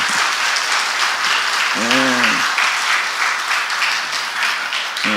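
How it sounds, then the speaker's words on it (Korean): A church congregation applauds steadily and loudly throughout, with a brief voice rising over the clapping partway through. "우리 박수 한번."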